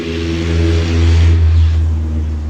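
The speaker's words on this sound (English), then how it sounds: "I see no point in having a very loud car. It's very much a disturbance." A loud car engine revs in a steady, throaty drone that swells and eases slightly, close and alone with no talking.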